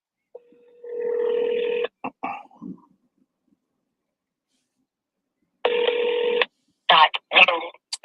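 Telephone keypad tones sound as a call is placed: a long sustained tone, a pause, then another long tone followed by a quick burst of short dialing beeps, close and clear against silence.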